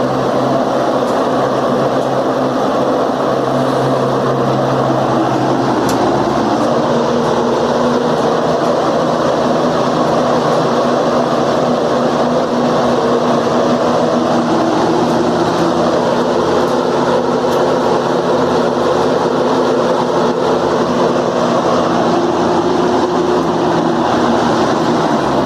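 A vintage Lakewood S-223 box fan drones loudly and continuously, with a loose object tumbling and rattling inside the cabinet under the steady airflow roar.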